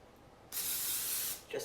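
Olive oil non-stick cooking spray spritzed into an air fryer basket: one steady, close hissing burst of about a second after a quiet start, ending with a brief faint clatter.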